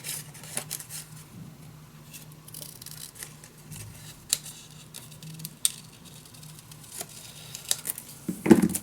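Scissors snipping through paper while a mini album and junk journal are being made, in a series of sharp, scattered cuts that are close and fairly quiet, with a rustle of paper and a louder handling noise at the end.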